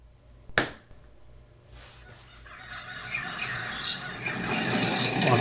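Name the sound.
birds chirping in a short film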